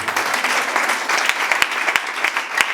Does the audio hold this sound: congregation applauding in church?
yes